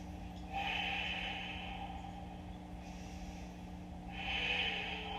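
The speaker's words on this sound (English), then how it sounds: "One more deep breath" Slow, deep breaths during a gentle yoga session, two long airy exhales close to the microphone over a steady low hum, with no talking.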